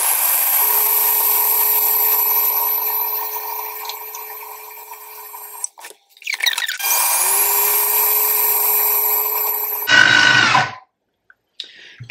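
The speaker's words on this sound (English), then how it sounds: "Okay, we whisk that up now." A powered whisk or hand mixer whirs steadily in a bowl of ingredients, with a constant high hum. It stops briefly around the middle, starts again, and ends with a short clattering burst, close up and without talking.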